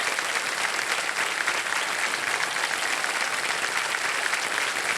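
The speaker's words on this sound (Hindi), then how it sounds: "ताली बजती रहे इनके लिए" Studio audience on a televised quiz show applauds steadily and loudly, a dense even wash of clapping sustained throughout with no pauses.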